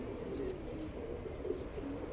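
Soft cooing of an escaped pigeon on a rooftop outdoors, faint and somewhat distant, over a steady background hum of wind and ambient noise.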